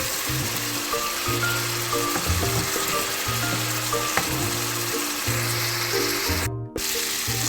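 Meat and onion fry in a pan, giving a loud, continuous sizzle while a utensil stirs through them in repeated scraping passes.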